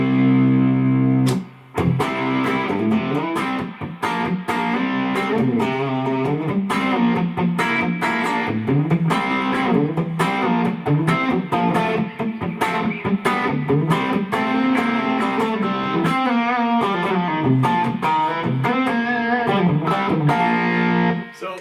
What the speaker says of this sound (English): Distortion overdrive is sort of the sound of rock and roll guitar.